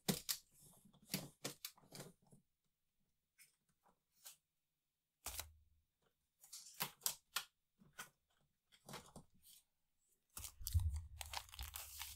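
Sticker sheets for a craft project handled close by, with faint crinkly rustles and soft crisp taps coming in short scattered bursts between quiet gaps.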